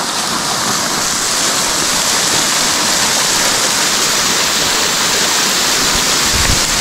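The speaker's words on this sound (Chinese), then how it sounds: "这是高地徒步的唯一一个瀑布了" A waterfall on the Tiger Leaping Gorge high trail pours clear water in a steady, loud, close roar that continues unbroken throughout, with no voices.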